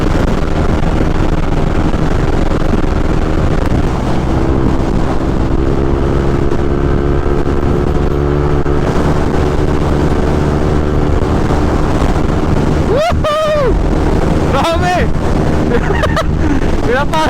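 A Yamaha NMAX V2 scooter engine drones at highway speed under loud, buffeting wind, with rising and falling engine tones and a short whoop from a voice near the end.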